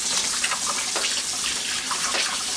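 Running tap water pours steadily and close as meat is washed with lemon for Haitian griot, a continuous splashing hiss with small fluctuations and no talking.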